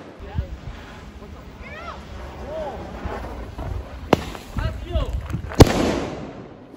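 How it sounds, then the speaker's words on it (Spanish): A giant firecracker goes off in a homemade outdoor experiment with a watermelon, giving a single sharp loud bang near the end amid excited shouting voices. "Última sandía, último petardo."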